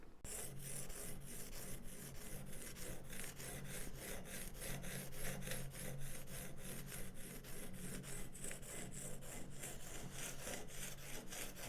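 A woodworking gouge is sharpened on a 300 grit stone, with a close, steady rhythmic rasping of back-and-forth strokes running throughout, without speech.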